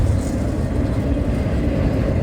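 A long CSX unit freight train of auto racks carrying new vehicles rolls past, producing a continuous heavy rumble of wheels and cars, steady and fairly close, with no voices.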